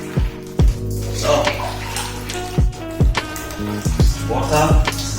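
Water rinsing freeform locs during a wash-day scalp scrub, a close, loud running splash broken by repeated sharp knocks and squishes.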